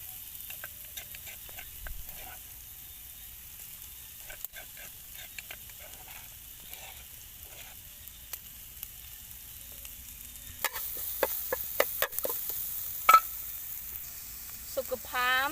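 Garlic and chili frying for a chili sauce: a quiet, steady sizzle with scattered ticks and small pops, growing louder and busier toward the end.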